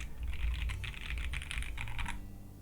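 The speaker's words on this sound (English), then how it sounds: "it sounds like a good solid plastic board" Keystrokes on an Akko ACR Top 75 mechanical keyboard with a silicone-dampened, solid plastic sound: a fast, steady patter of close clicks for about two seconds, then a brief quiet tail.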